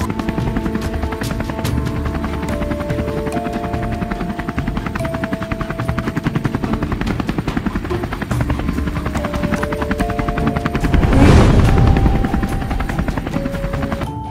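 A remote-control helicopter flies close by with rapid, loud rotor chopping throughout, swelling briefly into a louder whooshing pass near the end.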